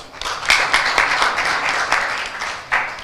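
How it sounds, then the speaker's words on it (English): An audience at a World Contraception Day 2021 event gives a short burst of lively applause, with uneven claps swelling and fading over a few seconds. "Can we applaud her once more?"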